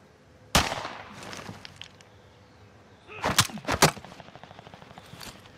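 Pistol shots fire in a video game: one sharp crack early on, then a quick cluster of several shots a few seconds later, all loud and close over a low game background.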